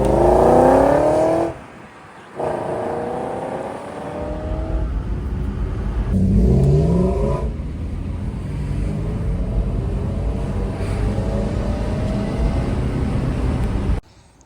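A BMW with a coolant leak is started and driven off, its engine running loud and steady with rising revs and a brief drop near the start, with no talk over it.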